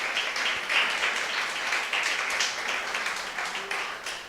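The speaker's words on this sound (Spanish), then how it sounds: "Dele una ofrenda de palmas al Señor" Church congregation applauding during a service, a dense, even wash of clapping that carries on steadily throughout.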